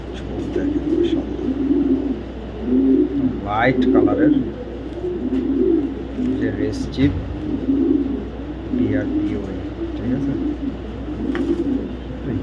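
Racer pigeons coo in soft, repeated rumbling phrases nearby while someone talks over them almost continuously.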